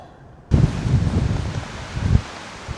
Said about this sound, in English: it is windy as fuck